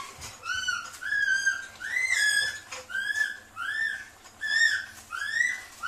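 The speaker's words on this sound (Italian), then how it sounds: "C'è un suono di trilli," Repeated trilling whistles ring out in a home kitchen where focaccia is being baked and a child plays, about seven rising chirped whistle phrases in a steady rhythm, moderately loud, with no speech.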